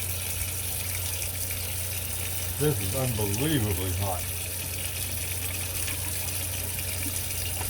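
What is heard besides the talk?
cold water running from a kitchen tap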